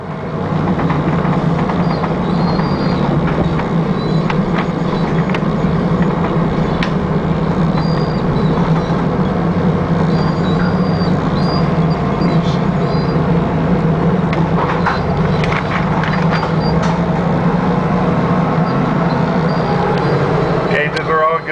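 A 1995 Ford handicap bus engine runs steadily, a loud continuous low drone with road and cabin rumble throughout, plus occasional faint rattles.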